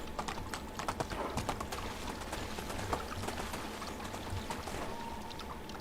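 Horse hooves clopping during riding in the medieval video game Medieval Dynasty, a rapid rhythmic patter over steady ambient game noise, moderately close and fairly quiet throughout.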